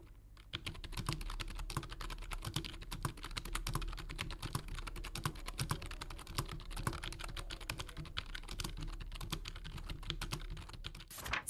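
Typing on a Fantech P51 computer keyboard, a fast, continuous stream of crisp key clicks and clacks, fairly quiet and close, with no talking.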